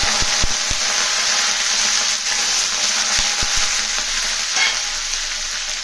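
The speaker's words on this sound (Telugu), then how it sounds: "ఇప్పుడు ఆయిల్లో ఆవాలని జీలకర్ర కరివేపాకు" Mustard seeds, cumin and curry leaves sizzle in hot oil with a steady, loud hiss, broken by a few sharp pops and clicks of spatters and the spoon.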